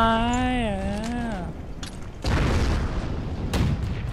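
A GRANATBÜCHSE-39 shot in the Heroes & Generals video game ends in a loud, blunt explosion that rumbles on for about a second. A voice is heard before it, and a second, smaller crack follows.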